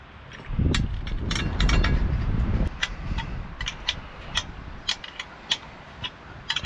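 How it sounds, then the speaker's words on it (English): Half-inch wrench snugging a nut onto a washer and lock washer while installing a light on a 2022 Honda Pioneer 1000, a rough scraping rumble followed by sharp metallic clicks and taps at close range, no talking. "This is where the 1/2 inch wrench is going to be useful."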